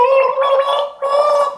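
A person gargles loudly and close up, a voiced bubbling gurgle held in two bursts with a short break between them.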